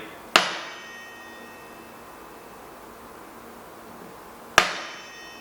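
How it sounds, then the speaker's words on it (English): Two sharp metallic hammer taps on the welds of an Orange Five mountain bike swingarm during a bearing service, spaced about four seconds apart, each ringing briefly before a quiet workshop background. "getting your hammer out again and tapping, remember only on the welds, the swing arm to move it over so it sits nice and straight"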